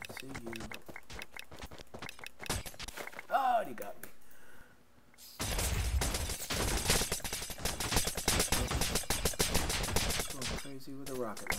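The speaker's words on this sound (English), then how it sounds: "With a rocket launcher." Rocket launcher fire in a Minecraft minigame fighting for a bridge: bursts of sharp game explosions and rapid shots, loud and dense after a short lull, with a player talking over the action.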